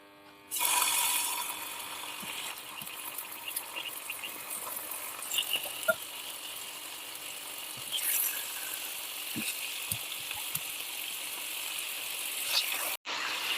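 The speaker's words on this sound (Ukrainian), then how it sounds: "ставимо пательню на вогонь, додаємо трішечки соняшникової олії і викладаємо наші крильця без часничку" Chicken wings frying in sunflower oil in a pan on high heat, giving a steady broadband sizzle throughout with occasional faint clinks and scrapes, and a brief dropout near the end.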